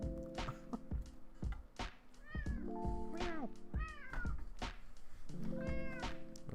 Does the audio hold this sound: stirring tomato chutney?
no